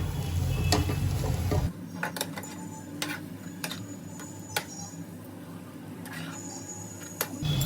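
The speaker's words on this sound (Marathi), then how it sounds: "तर सर्व मिश्रण मी एकत्र बटाट्यामध्ये चांगलं मिक्स करून घेते।" A spiced mashed potato filling for aloo paratha is stirred together in a pan on the gas stove. A loud scraping opens it, then soft clinks and scrapes of a spoon against the pan come at intervals, with a faint hum behind.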